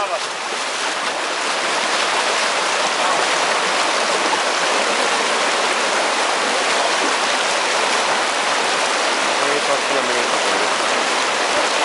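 Rushing water roars steadily through a half-kilometre-long river rapid on the Pahakoski during a descent, a loud, dense and unbroken wash of sound with no pauses.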